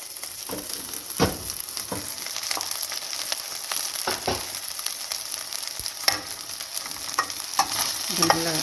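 Coriander seeds, black pepper and a little cumin frying in oil and being stirred for a tomato-free biryani, a steady close sizzle broken by intermittent scraping and clinking of the spoon against the pan.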